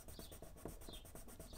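A 6B carbon-based graphite pencil, a Stadler Mars Lumograph, scratches across paper with a dry, gritty feel, a quiet, close run of short repeated strokes.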